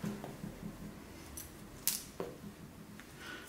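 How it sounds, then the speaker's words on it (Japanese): Scissors snip through human hair being trimmed to about 5 cm, a few sharp, close metallic cuts spaced irregularly over quiet room tone. "はい、5センチに切ってみましょう。"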